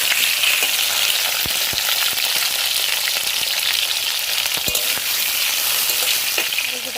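Potatoes fry in a pan with a steady, dense sizzle and crackle, close and continuous, with occasional sharp pops and light stirring scrapes and no one speaking.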